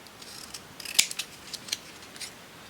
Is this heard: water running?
no